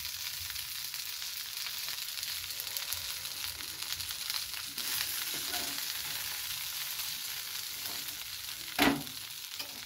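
Eggplant slices, cut into flower shapes, frying in a small amount of oil for a crispy bhaji, giving a steady close sizzle throughout with a brief louder crackle near the end.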